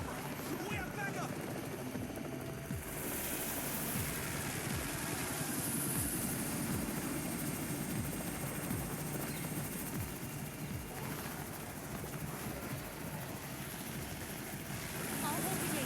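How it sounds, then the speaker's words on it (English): Helicopter in the Undawn video game arriving overhead, a continuous rotor roar with rhythmic thumping that swells and fades over the full stretch, mixed with game ambience. "It's the Raven's chopper! We have backup!"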